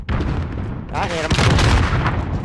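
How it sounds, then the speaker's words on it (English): Rocket launcher blasts in a video game, loud and booming, with a burst of impacts after a brief lull, mixed with a voice talking over the noise. "Stop using a rocket launcher."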